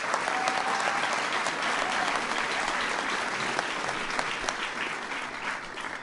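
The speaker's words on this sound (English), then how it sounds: "Give him a big round of applause." Loud, dense audience applause fills a White House event honoring the L.A. Kings hockey team and L.A. Galaxy soccer team, a steady roar of many hands clapping that holds for several seconds.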